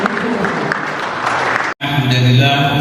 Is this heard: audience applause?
yes